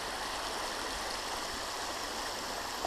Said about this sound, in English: East Cadron Creek.